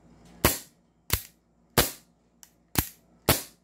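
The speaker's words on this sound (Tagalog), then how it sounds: "Iba yung dry firing na ganito." Pistol dry firing, five sharp metallic clicks spaced roughly every two-thirds of a second, crisp and close in a quiet room, each snap decaying quickly with no talking.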